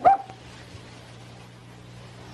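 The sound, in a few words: dog barking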